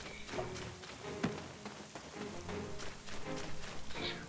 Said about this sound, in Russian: вот облака есть и дождик идет